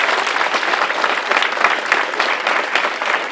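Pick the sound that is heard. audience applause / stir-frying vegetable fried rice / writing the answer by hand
audience applause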